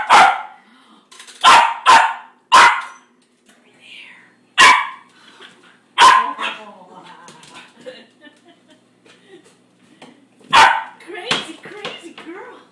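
An excited American Eskimo dog barks repeatedly at a dishwasher indoors, loud close yaps in quick bursts with short pauses, some rapid doubles, and softer whines and noises between them.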